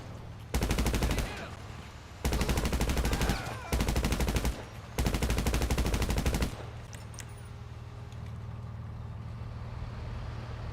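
Sustained bursts of automatic gunfire from GTA 5 Online, four loud blocks of rapid shots separated by short pauses, then a quieter stretch of low game ambience; no distinct single sniper-rifle crack stands out.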